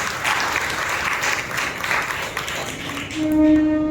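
Congregation clapping loudly during a Sunday church worship service, a full sustained roar of many hands that thins near the end as a held musical tone comes in.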